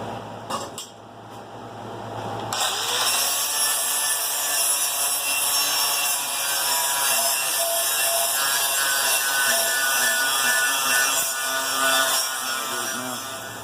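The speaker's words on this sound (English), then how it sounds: "Now we need to hit these with the sander" A sander works over forged ladder-pattern damascus steel pieces fresh from the acid etch, a loud steady abrasive whir with grinding rasp after a brief start, continuous and close with no talk.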